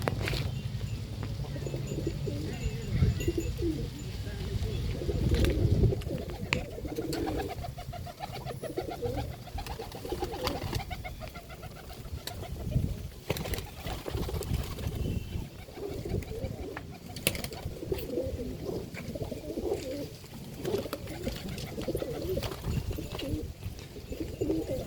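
Pigeons cooing inside a loft in Pandharpur, a steady layered murmur of low coos with occasional wing and movement noises, moderately close, with a little faint talk in the background.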